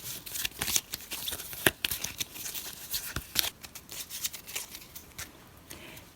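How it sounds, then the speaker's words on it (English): Terrain cards for a board game are shuffled together by hand, a rapid run of crisp riffling and flicking snaps in uneven bursts, close and fairly quiet, with no talking. "shuffle them together"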